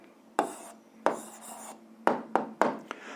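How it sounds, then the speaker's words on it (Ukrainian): Pen or pencil scratching across paper while writing out an algebra answer, a few short scribbled strokes in separate bursts, close and quiet, with no talk. "записуємо відповідь, пишемо відповідь"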